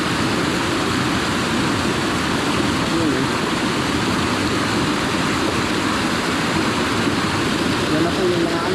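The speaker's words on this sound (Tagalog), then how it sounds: "Ang lakas pa rin po nung nadating na tubig." Strong floodwater rushing loudly after Typhoon Aghon in the Philippines, a dense, continuous roar of churning water close by, steady throughout with no pauses.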